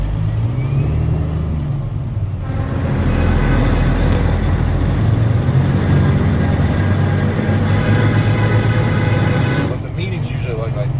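Horns blare from a trucker convoy rolling through the USA in March 2022, sustained and loud for several seconds over heavy engine and road rumble, with voices talking throughout.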